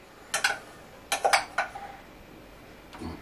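Metal spoon scraping and clinking against a saucepan during home cooking of a roast beef joint, a few short sharp scrapes in two quick clusters with quiet gaps between.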